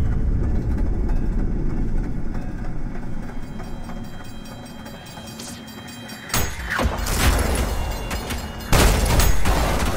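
A train in the video game ULTRAKILL rumbles steadily and loudly, with heavy booming impacts and metallic clatter breaking in near the end.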